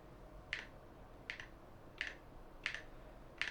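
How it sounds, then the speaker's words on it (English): Key presses on a Skyloong GK68 HE keyboard, five short crisp clicks spaced roughly evenly, close and clear over a faint steady background hiss. "If we press the Windows key"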